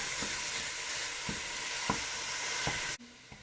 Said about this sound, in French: on rajoute la viande. Et là, on la défait comme ça avec notre cuillère